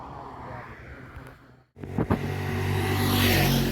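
A long-distance intercity bus bound for Jakarta rumbles past, its engine a steady low drone that briefly cuts out before returning louder as the vehicle moves along the road.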